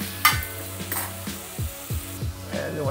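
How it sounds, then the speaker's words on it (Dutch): Bacon fries in a pan over medium-high heat, a soft steady sizzle broken by repeated scraping stirs and light utensil knocks at close range. "In de pan, waar nu de spek in ligt te bakken, te sudderen"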